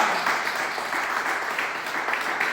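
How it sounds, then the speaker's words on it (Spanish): A church congregation applauds in a steady, dense wash of clapping that holds at an even level throughout the short stretch, with no distinct pauses. "Después dar otro aplauso a Jesucristo."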